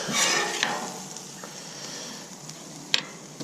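Shrimp sizzling on a Camp Chef 600 flat top griddle outdoors, a steady faint hiss with a few sharp metallic scrapes and clicks from a spatula, close and fairly quiet.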